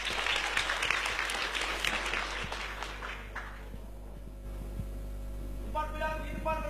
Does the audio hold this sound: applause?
yes